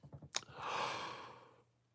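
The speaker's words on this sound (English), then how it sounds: "a little yawn there" A person gives a single breathy yawn up close, opening with a short catch and then a long, drawn-out exhale that slowly fades.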